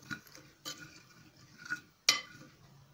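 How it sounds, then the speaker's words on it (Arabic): Spices being stirred with onions and peppers in a pan, heard as quiet, sparse scraping and a few sharp utensil knocks against the pan, with faint sizzle in between. "انا بس هقلب التوابل دي مع البصل والفلفل فقط"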